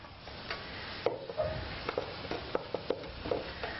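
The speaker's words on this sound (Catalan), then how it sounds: "tot d'una amb frites les patates és el primer que se fregeix" Potatoes frying in oil: a faint, continuous sizzle with scattered light ticks and clinks of stirring, quiet and without talk.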